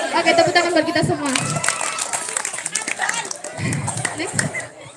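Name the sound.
audience applause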